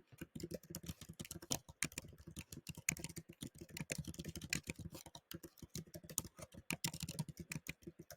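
Rapid, steady keystrokes on a computer keyboard typing a prompt into a ChatGPT bot, close and continuous with only brief pauses between runs of keys.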